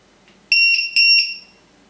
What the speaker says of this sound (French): On va juste couper l'alarme.